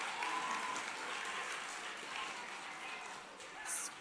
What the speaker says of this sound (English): we can have applause for books